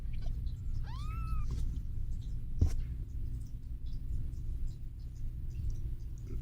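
Mother cat with three newborn kittens only hours old, one clear rising meow followed by a faint second call over a quiet indoor hum, with a brief sharp click partway through.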